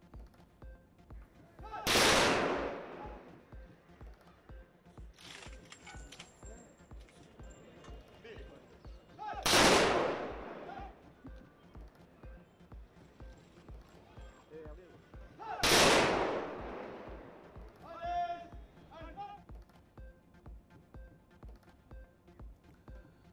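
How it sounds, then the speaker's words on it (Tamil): Police fire gun salute volleys at an actor's funeral, three sharp, loud volleys spaced several seconds apart, each a brief crackling burst, with a low rhythmic drumming and murmuring voices in between. "78 துப்பாக்கி குண்டுகள் முழங்க காவலர்கள் இறுதி அஞ்சலி."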